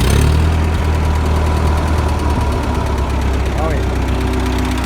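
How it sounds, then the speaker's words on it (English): An old tractor engine idles loudly and close, with a steady low rumble and faint knocking throughout, while a voice can be heard over it. "Now let's see if she'll crank."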